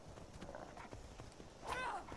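Horse hooves clip-clopping in Skyrim, a steady run of light, moderately quiet hoof knocks through the clip, ending in a brief higher whinny-like burst, with a voice speaking over it.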